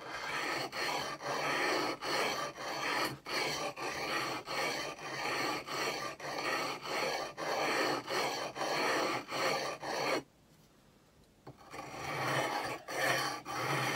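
Tool blade stroked back and forth against a sharpening stone on both sides, a long run of regular close rasping passes with a short pause before the strokes resume, no voices.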